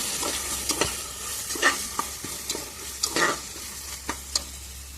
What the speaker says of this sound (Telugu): అల్లం వెల్లుల్లి పేస్ట్ మొత్తం పచ్చివాసన పోయేలాగా ఆయిల్లో బాగా ఫ్రై చేస్తాం